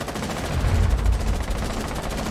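An unbroken stream of machine gun fire from a shooter video game, loud and close, with rapid evenly spaced shots running the whole time.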